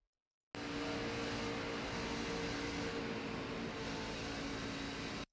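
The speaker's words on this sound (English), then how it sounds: "Listen to this throttle." A race car engine at full throttle at Daytona in a sim racing game, a sustained loud, steady drone that starts abruptly after a short silence and holds at high revs before cutting off.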